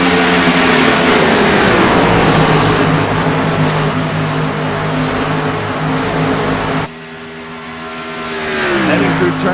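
Xfinity stock cars race at Auto Club Speedway, a loud sustained roar of engines at full throttle, with a sudden drop and then a rising whine as another car sweeps by, under continuous commentary.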